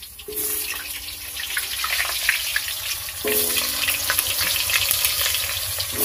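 Potatoes frying in oil in a kadai, a steady close sizzle that swells partway through as they are stirred, with faint scraping and background hum throughout.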